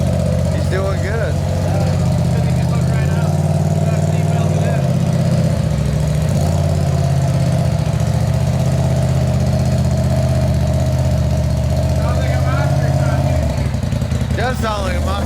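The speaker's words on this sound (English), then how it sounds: "Does sound like a monster truck." A side-by-side UTV engine idles with a steady, loud rumble throughout, surging into revs near the end, while people talk nearby.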